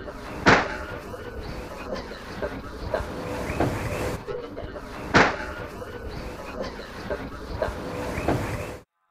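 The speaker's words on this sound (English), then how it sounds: "Birds, screen door slamming." On an old, hissy tape recording made at the People's Temple settlement in Jonestown, a screen door slams sharply twice, about five seconds apart. Muffled room noise and indistinct voices run underneath.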